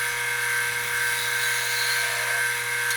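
Wood lathe spinning a maple bowl with epoxy resin while a tool takes very thin shavings, a steady, loud, high-pitched hum and hiss without pause, no speech.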